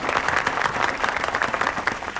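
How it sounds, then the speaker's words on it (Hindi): A crowd in a neighbourhood lane applauds a public speech. The clapping is loud, dense and continuous, a steady wash of many hands close by. "तालियां!"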